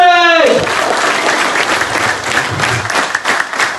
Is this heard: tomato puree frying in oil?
no